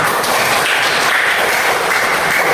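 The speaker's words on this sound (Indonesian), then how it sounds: "semuanya aplaus untuk kelompok semuanya" Students in a classroom give their presentation groups a steady burst of applause, with dense overlapping clapping that stays even and fairly loud throughout.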